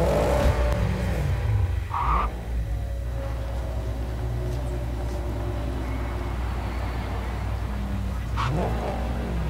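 The Quartz car in Cyberpunk 2077 drives with a low steady engine hum, rising and settling through gear changes, with a couple of short sharp swishes passing by at moderate loudness.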